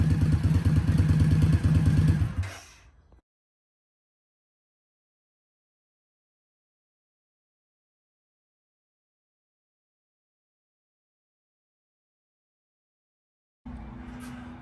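A 2021 Indian Scout motorcycle with Reinhart slip-on exhausts idles loudly and close for a couple of seconds, cuts off into a long silence, then rumbles back to life at the very end.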